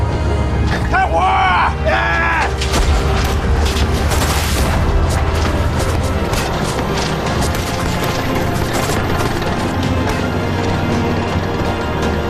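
Artillery in a war scene fires with heavy booms and crashes over a dense, continuous battle din, loud and close, with one voice shouting.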